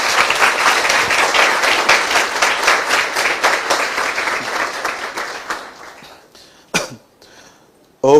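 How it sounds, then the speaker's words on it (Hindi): A church congregation breaks into loud, dense applause that fades gradually over several seconds into scattered claps, a cough and quiet room sound, with a voice returning at the end. "यीशु के लिए एक जोरदार ताली बजाएंगे।"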